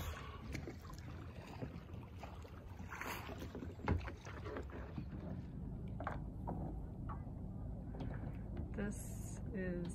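Kayak drifts on Lake McDonald with soft water lapping and gentle paddle splashes, faint and distant under wind noise, with occasional voices in the background.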